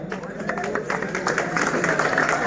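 Audience applause welcoming poet Ayesha Bakhtawar at a poetry gathering in Bahawalpur: steady crowd clapping, fairly close, under a host's voice announcing her.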